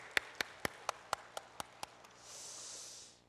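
A church congregation applauds its choir: about eight sharp, evenly spaced claps ring out close by, then a soft wash of wider applause rises briefly at the end.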